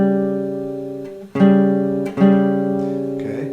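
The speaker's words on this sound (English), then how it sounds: "It sounds like this. This is a tritone." A tritone interval played on guitar, three sustained dissonant strikes of the same two-note interval, each ringing and slowly decaying, clear and close with no talking.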